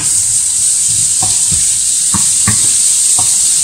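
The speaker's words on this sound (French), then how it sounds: "Je peux remettre les oignons, rissoler un peu." Onions browning in a pan for homemade ratatouille, giving a steady, loud sizzling hiss throughout, with a few soft scraping stirs of a utensil spaced through it.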